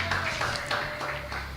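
A church congregation claps during a worship service, a brief run of moderate, somewhat rhythmic clapping over a low hum, with a voice briefly audible.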